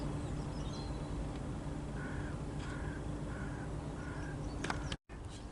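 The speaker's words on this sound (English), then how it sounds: "Seagulls love a bit of bread first thing in the morning." Seagulls call over mudflats at Leigh-on-Sea in the morning, a short series of evenly spaced, moderately distant cries over steady wind-like background noise, followed by a brief click.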